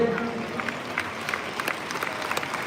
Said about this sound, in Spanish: Recibe los aplausos de la gente.